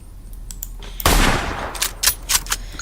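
A modded video game's Russian bolt-action battle rifle chambered in Mauser Nagant ammunition fires one loud, close shot with a rolling echo, followed by faint clicks and softer distant reports.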